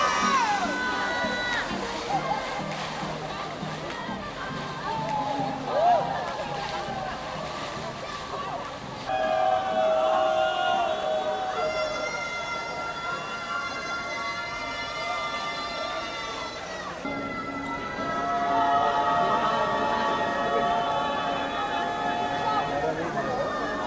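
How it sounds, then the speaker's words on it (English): A crowd shouts and cheers in a long continuous roar at a sound-reactive fountain in Xi'an, China, loud and sustained with a few high whistling tones running through it. "it was non-stop yelling from the crowd at the top of their lungs"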